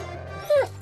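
A small dog lets out a single short, high whimpering yip near the middle, close and fairly loud, against a low steady hum.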